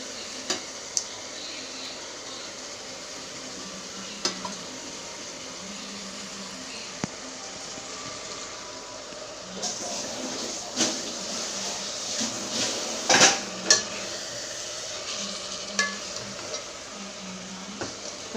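Mint and coriander are stirred in a cooking pot over gentle sizzling, with scattered sharp scrapes and clinks of the spoon that grow busier toward the second half.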